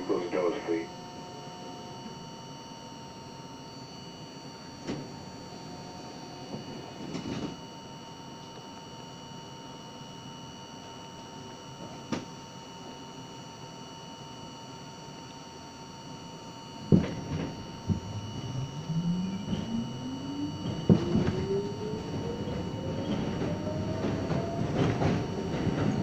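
Subway train on the Z line at Jamaica Center, with door chimes and a low hum, then rising motor whine and rail clatter as the train pulls away; an announcement plays over the start.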